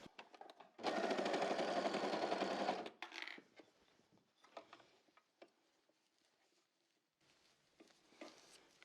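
A sewing machine stitches ribbing onto a sleeve cuff in one loud, dense burst of about two seconds, then falls to quieter, scattered handling noises and faint clicks.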